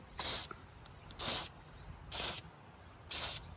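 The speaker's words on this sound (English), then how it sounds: "I use this WD-40 white lithium grease for the hinges and the latches" Four short, evenly spaced spritzes of WD-40 white lithium grease on Polaris Ranger 1000 XP hinges and latches, each a quick sharp hiss, against a quiet background.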